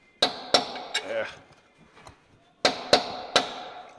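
Sharp metallic hammer strikes on seized bolt studs of a Kenworth truck turbo ring out in two bursts of three, each blow clanging close and loud with short ringing decay between.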